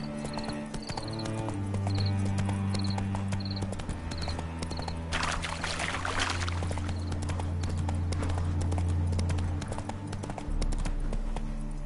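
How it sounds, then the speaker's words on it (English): Roach, a horse in the video game Witcher 3, clip-clops and whinnies nervously as it spooks, over a steady game music bed with a brief burst of noise midway. "Spooking my horse."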